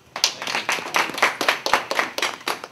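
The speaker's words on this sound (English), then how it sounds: "Can you clap for my friend Sheila?" Eighth-grade students in a middle school assembly clap for an author, a brief burst of fairly close, rhythmic, slightly uneven hand claps without talk.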